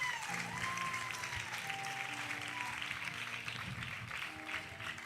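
A church congregation at a Sunday service applauds in praise, a steady, dense clapping from the crowd that carries on without pause, with a sustained musical tone faintly beneath it.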